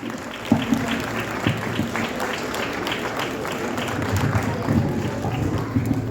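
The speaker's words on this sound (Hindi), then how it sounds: "कृपया तालियां बजाते रहिए।" An audience applauds at a school event where children stage a play about Savitribai Phule, lively clapping with a few sharper claps, steady throughout under faint voices.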